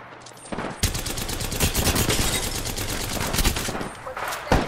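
Rapid automatic weapon fire in the video game Apex Legends, a sustained dense burst of loud shots lasting several seconds, followed by a few scattered single shots.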